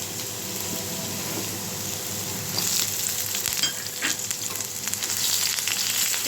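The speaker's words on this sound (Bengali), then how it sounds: "আমি এই জায়গায় শুকনো মরিচটা ভেজে নেব।" Dried chili frying in oil alongside potatoes, a steady close sizzle that swells louder partway through, with occasional bubbling and stirring and no talking.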